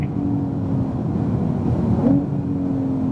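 A 2018 Porsche 911 Turbo S engine drones steadily as the car accelerates on a track, a continuous muffled roar that swells slightly near the end.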